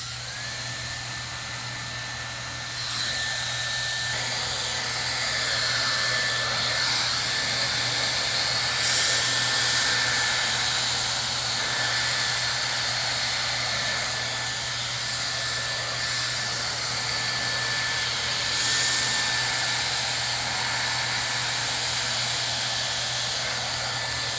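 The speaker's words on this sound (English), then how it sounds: "I'm gonna use my round brush and start blow drying down the hair shaft again." A hair dryer blows steadily for the whole stretch while a round brush works through hand-tied hair extensions, a loud, continuous airy roar with a constant high whine and slight swells as the dryer moves.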